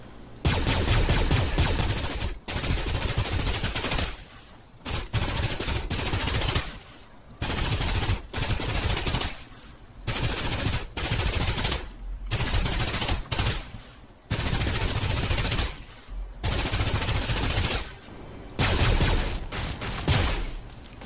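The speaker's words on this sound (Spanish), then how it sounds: "comenzar a disparar a las estructuras para destruirlas" Loud E-11 blaster rifle fire in the video game Fortnite, aimed at buildings and structures: rapid automatic bursts of several seconds each, separated by short silent gaps.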